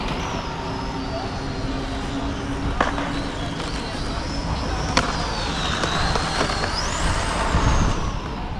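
A Traxxas Mini Rally VXL Ford RS200 RC car drives over cobblestones, its electric motor a steady high whine that rises and falls with a constant rough rumble from the bumpy stones, loud and close throughout.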